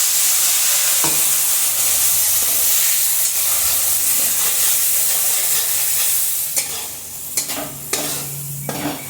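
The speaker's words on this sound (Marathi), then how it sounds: "मस्त कडकडीत तेल झालेलं आहे, त्यात मी आता हे आपले मसाले सोडले" Spices hit very hot oil in a kadhai and crackle in a loud, hissing sizzle while a utensil stirs them. The hiss fades toward the end, leaving a few sharp scrapes and clinks, and no one talks.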